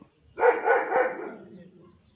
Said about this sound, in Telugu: అరిసేది మా కుక్క